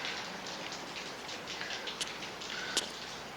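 Steady rain falls as a dense, even hiss with scattered sharper drips and a couple of brief ticking spikes, no voices over it.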